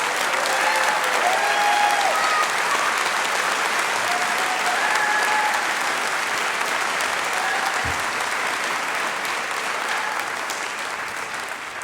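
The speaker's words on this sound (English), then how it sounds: "how about a round of applause for every student that performed here tonight" Loud, sustained applause from a large audience at a performing arts hall of fame induction ceremony, a dense unbroken wash of clapping that continues at an even level throughout and eases only slightly toward the end.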